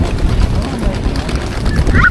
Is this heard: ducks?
yes